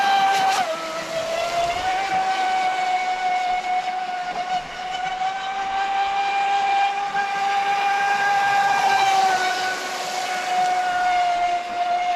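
Carbon fiber RC boat running at about 40% throttle, a steady high-pitched electric motor whine with a slight pitch dip early on, sustained and fairly loud amid water hiss.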